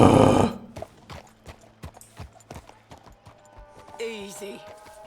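Horse hooves clopping in Red Dead Redemption 2, a steady run of distinct close hoofbeats after a brief loud burst, with a voice talking over part of it.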